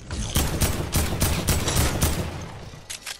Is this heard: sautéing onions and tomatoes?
no